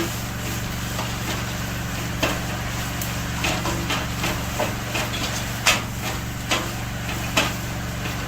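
Vegetables and coconut fried rice are stirred in a hot pan, giving a steady sizzle with scattered scraping and clinking of the utensil against the pan throughout.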